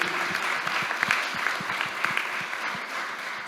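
A room full of people applauding steadily, dense clapping filling the whole stretch at an even, moderate level with no voices on top.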